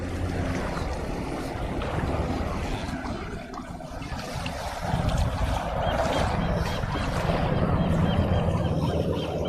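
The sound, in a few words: wind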